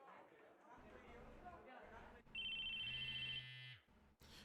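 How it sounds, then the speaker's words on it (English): A phone ringtone goes off in a classroom in the visual novel game CHAOS;HEAD NOAH: a bright electronic tone rings for about a second and a half over murmuring chatter, then cuts off. "A loud electronic noise echoed through the classroom. I felt a slight vibration near my chest. It was my phone."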